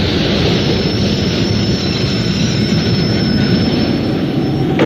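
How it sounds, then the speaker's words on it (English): A New York subway D train arrives with a loud, steady rumble and a thin, sustained high wheel squeal running the whole time, with no talking. "is this the D train coming now?"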